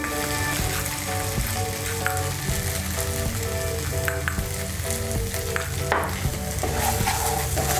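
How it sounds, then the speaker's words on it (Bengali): Fried eggs for a Bengali chilli egg dish being stirred with masala and salt in a hot pan, giving a steady close sizzle with repeated scraping stirs, and no talking. "ডিমগুলোকে মশলার সঙ্গে মিশিয়ে নিয়েছি"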